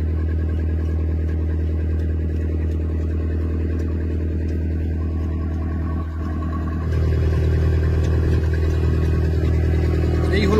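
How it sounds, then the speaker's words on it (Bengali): A fishing trawler's engine drones low and steady while a pump clears bilge water from the hull. The hum stays loud and constant, and the pitch shifts and grows slightly louder partway through. No one speaks. "এদিকে এই যে ট্রলারের নিচের যে জল জমে থাকে সেটাকে পাম্প করে কিন্তু বাইরে বের করে দেওয়া হচ্ছে।"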